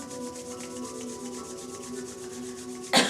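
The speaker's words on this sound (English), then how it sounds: "let's rub palms together rather vigorously" Palms slathered with essential oil rub together vigorously in a steady, close, dry swishing that runs evenly, ending with a short louder brush.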